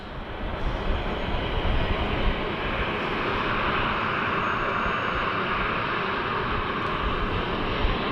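A Virgin airliner in Toy Story livery roars past at Sydney Airport, a loud, steady broadband engine rush that holds without a break throughout.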